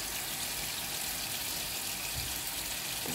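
Tap water runs steadily into a kitchen sink during dishwashing, a continuous broadband hiss and splash that stays close and even throughout, with a brief clatter near the end.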